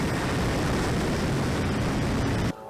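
FMS CJ-6 radio-controlled model airplane flying overhead, a loud steady propeller and motor roar that holds then cuts off abruptly near the end.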